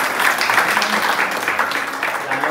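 An audience claps steadily and loudly throughout at a devotional gathering, a dense sustained burst of applause with faint voices mixed in.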